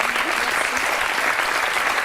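Studio audience breaks into applause, a dense, steady wash of many hands clapping at even loudness throughout, with no voices standing out.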